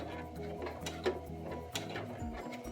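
A sewing machine stitches a fabric face mask, a close, steady mechanical whir with rapid needle ticks and a few soft clicks as the material is pivoted, no one talking.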